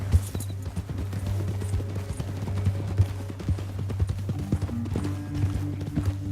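Horse hooves clip-clop in a steady, even rhythm on a trail in Red Dead Redemption 2, the hoofbeats close and distinct over a low constant hum.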